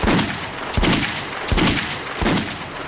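Gunfire in the video game Metro 2033: four evenly spaced, heavy booming shots about three-quarters of a second apart, each with a short roaring tail, loud and close with no speech.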